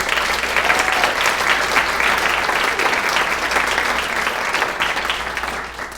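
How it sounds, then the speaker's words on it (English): A large audience at a city State of the City address breaks into dense, sustained applause that stays loud and steady for several seconds before easing slightly at the end. "Please join me in giving them a round of applause."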